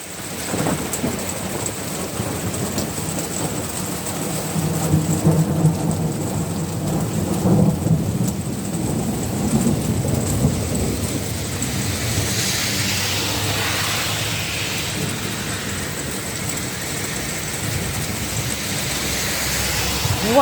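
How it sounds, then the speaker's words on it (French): A heavy thunderstorm with loud, steady pouring rain and deep rumbling thunder rolling through, a constant dense wash of sound with swells of low rumble, heard without talk. "Quand il pleut de dingue."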